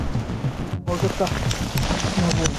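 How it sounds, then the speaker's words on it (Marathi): Rain and hail pour down steadily on a Himalayan mountain trek toward Annapurna Base Camp in Nepal, a close, continuous patter with voices talking over it. "ज्या प्रकारे पाणी पडत आहे"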